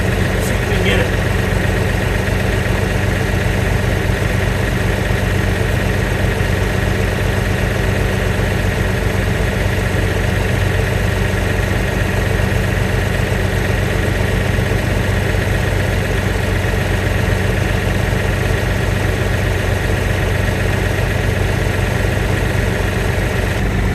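A stump grinder's engine runs continuously at a steady pace for the whole stretch, a loud, close, unbroken mechanical drone from the newly assembled machine.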